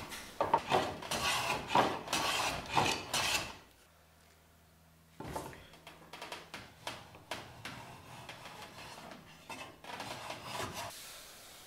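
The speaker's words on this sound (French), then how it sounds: "je fais une rainure inclinée qui servira de butée pour les planchettes" Hand tool cutting an angled groove in a wooden board for a Shaker workbench tray, heard as a loud run of rasping strokes, then a pause with faint hum, then lighter scraping strokes resuming.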